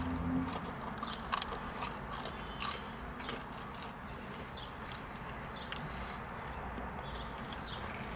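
Crunchy Popeyes Sweet & Crunchy chicken tender bitten up close, giving a few sharp crackling crunches followed by steady chewing, with no talking.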